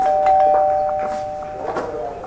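A doorbell rings in an indoor scene from an Egyptian thriller film, a loud, sustained electronic tone that fades gradually, with faint murmuring at the end.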